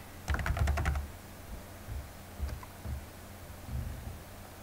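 Typing on a computer keyboard for a dictionary search: a quick burst of several close key clicks, then a few isolated soft taps spaced out, quiet and without talk.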